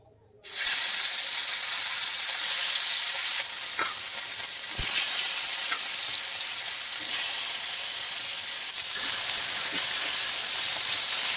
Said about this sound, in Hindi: सरिष तेल 2 चम्मच नेछि। एबे माछ भाजीबा।